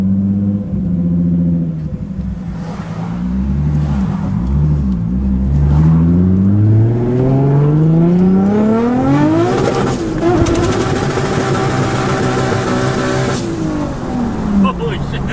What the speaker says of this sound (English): The rev limiter is so good.